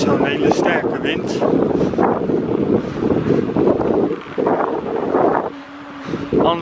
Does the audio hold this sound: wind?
yes